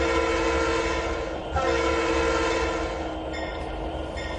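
Trains moving in the Trainz 2019 railroad simulator game, with a steady loud rumble of locomotive engines and rolling wagons throughout and horn-like tones near the end, no voices.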